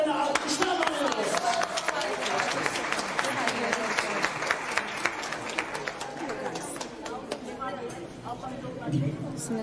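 An audience applauds as a singer is welcomed to the stage, loud sustained clapping with crowd murmur and voices mixed in, fading slightly before a final burst.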